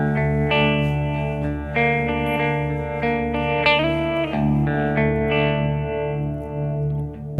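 Electric guitar chords through a Kemper Profiler with low boost ring out with a heavy, deep reverb that leaves a thick, booming low tail between strums; no voices.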